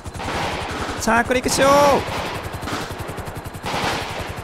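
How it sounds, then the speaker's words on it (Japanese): Automatic rifle gunfire in a GTA5 zombie battle during a helicopter rescue, a steady run of rapid shots under a voice, close and loud, with brief beeping tones in the middle. "お、撃ってる撃ってる撃ってる撃ってる。"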